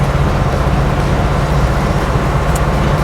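A 1973 International Scout rolls along a road in two-wheel drive, a steady, even low rumble of engine and light tire noise that holds without any break or talk.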